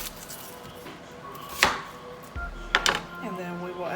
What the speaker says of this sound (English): I'm just gonna get the onion cut up for it